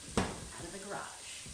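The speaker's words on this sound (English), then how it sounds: "I'm gonna turn down the onions because they're really cooking over here" Onions sizzling in a frying pan on a home stove: a soft, steady frying hiss with a brief scrape of stirring near the start, fairly quiet.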